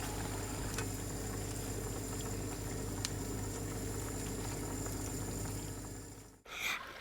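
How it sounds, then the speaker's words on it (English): Kidney beans cooking in a pan with tomato puree, giving a steady bubbling, sizzling simmer close by that runs evenly and then cuts off abruptly near the end, with no talk. "Add some kidney beans and mix until cooked."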